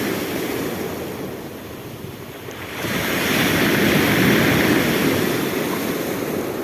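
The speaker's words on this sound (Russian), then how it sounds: "Волна пытается намочить мне ноги." Sea waves break on a Black Sea shore in Abkhazia in winter, a steady close roar of surf that swells louder partway through, with wind noise over it.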